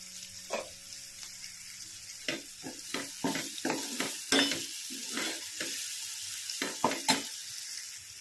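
Vegetables fry in a pan just after turmeric goes in, for a field-bean and ridge-gourd dish: a steady close sizzle broken by repeated sharp scrapes and clinks of stirring, with no talking.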